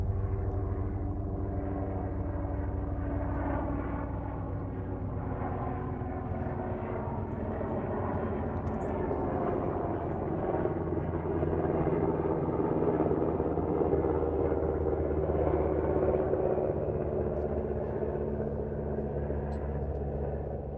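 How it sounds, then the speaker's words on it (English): An airplane passing overhead, heard as a steady, low, rumbling engine drone that holds at a moderate distance for about twenty seconds, with no talking. "I have a plane flying overhead."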